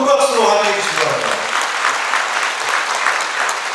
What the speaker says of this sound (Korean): 우리 수상하신 분들께 다시 한번 큰 박수로 환영해 주시기 바랍니다